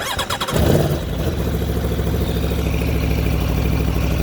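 A 2019 Aprilia Tuono RR motorcycle engine cranks briefly, then catches and settles into a steady, loud idle close by.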